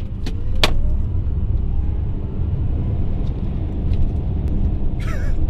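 A Tesla Model X P90D electric SUV accelerating hard from a stop in ludicrous and sport mode, a steady low road and wind rumble throughout with faint whine, a few brief sharp clicks and a crow cawing briefly near the end.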